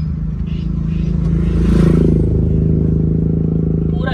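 Car engine vibrating in first gear with the clutch held during a hill start on an incline, a steady low rumble with a slight swell midway, continuous throughout.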